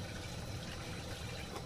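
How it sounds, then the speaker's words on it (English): Two cups of water poured into a flour roux for soup, a faint continuous splashing gush heard alone. "And much like before too, add 2 cups of water."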